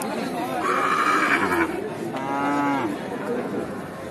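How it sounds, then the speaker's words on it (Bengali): A red Sahiwal cow calf at a busy cattle market lets out two long, loud moos close by, with crowd chatter and talk running underneath. "একটা গরুর বাচ্চা শাহিওয়াল"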